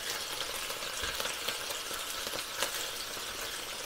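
Burgers and onions fry on a Ninja Sizzler electric grill, giving a steady, fairly quiet hiss and crackle with small pops and no talking.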